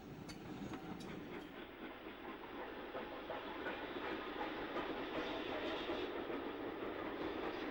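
A steam locomotive train of the British Railways era, hauled by an ex-LMS Stanier or BR standard engine, rolls past steadily, with a constant rumble, hiss and clatter of wheels growing slightly louder, with no voices.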